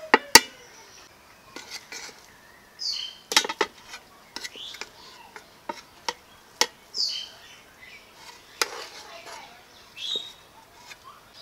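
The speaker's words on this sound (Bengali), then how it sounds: "এখন এখান থেকে অর্ধেকটা পোলাওয়ের চাল আমি তুলে নেব।" Parboiled Gobindobhog pulao rice is scooped out of a pot with a metal utensil, giving sharp, scattered clinks and scrapes at irregular intervals, close and fairly quiet between strikes.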